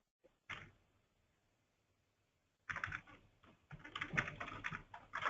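Someone types on a computer keyboard during a software demo. A single click comes first, then after a quiet gap a quick, close run of soft key taps.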